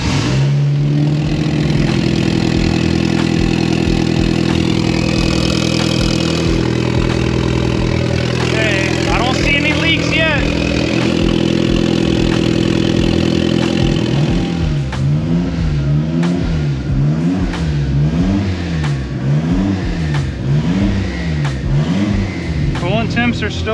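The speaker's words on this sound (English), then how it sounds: "Let's start the car again and we'll fill it up." A turbo Eclipse car engine starts and then runs loud and close. It idles steadily at first and later revs up and down in a repeating swell, with people talking over the engine noise.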